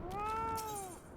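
A single clear, drawn-out cat meow from the online role-playing game Final Fantasy XIV sounds alone against quiet background ambience.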